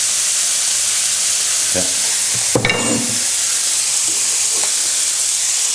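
Mushrooms hit hot oil in a pan with bacon, bursting into a loud sizzle with stirring clatter, then settling into a steady frying hiss; a brief word is spoken.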